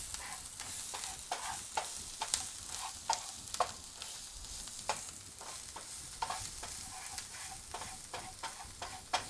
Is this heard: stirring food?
yes